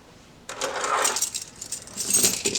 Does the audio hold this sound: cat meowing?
no